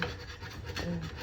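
A metal file rasps and scrapes in quick, rough strokes, close and fairly loud, during work on a 1953 Chevy project.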